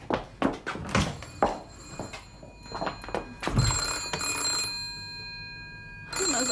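A telephone bell rings in repeated sustained bursts inside a room, mixed with knocks and thumps, with a long ringing stretch near the end.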